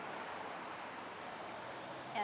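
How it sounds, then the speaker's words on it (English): Cascading waterfall rapids in a garden setting at Kelley's Corner, Acton, Massachusetts, giving a steady, broad rushing wash of water that holds evenly throughout without pause. "this is a cascading waterfall. You see, they're rapids."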